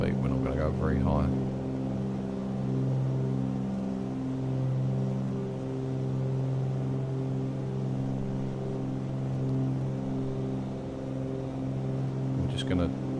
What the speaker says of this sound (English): I'm just going to turn the volume down a little bit there with that engine noise.